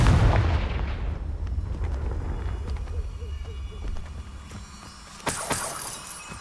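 A Confringo blasting spell bursts in the Hogwarts Legacy video game with a loud booming explosion up front, then a rumbling decay and a second sharp crack and blast near the end.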